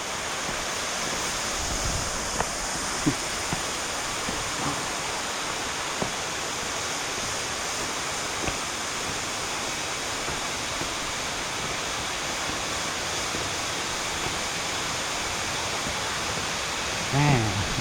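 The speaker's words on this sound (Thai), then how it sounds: "เป็นน้ำตกหินปูนเหมือนน้ำตกบัวตองเลยนะครับ สูงมาก" Constant rushing roar of a tall, large limestone waterfall, broad and steady, with faint voices and a few small knocks in the background.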